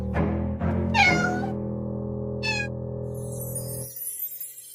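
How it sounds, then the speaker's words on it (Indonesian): A cat gives two clear, drawn-out meows over a steady low hum, the second shorter and a little quieter, with a faint high hiss trailing at the end. "Dasar kucing nakal."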